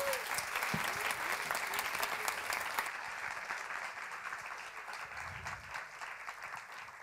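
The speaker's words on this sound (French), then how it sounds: "Merci pour vos applaudissements" Sustained applause from a seated audience at a live science-communication contest, a dense even wash of clapping that slowly fades over seven seconds, with faint voices and a short musical tone underneath.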